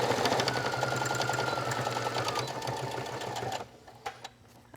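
A sewing machine stitches fabric for a circular jewelry pouch, a steady rapid whirring hum up close that stops abruptly near the end, followed by a few faint clicks.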